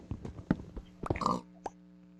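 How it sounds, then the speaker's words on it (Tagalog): A video game pig lets out a few short, close grunts in quick succession, followed by quieter ambient game sound. "Baboy."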